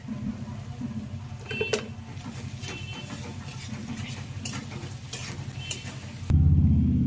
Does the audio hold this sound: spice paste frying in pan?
yes